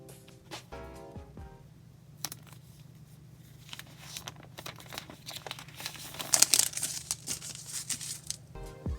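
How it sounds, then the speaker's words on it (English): Plastic wrap is peeled off a new OnePlus 8T Lunar Silver phone. Faint, scattered crinkles and soft tearing rustles come close up, growing a little busier near the end. "Let's take off the plastic wrap."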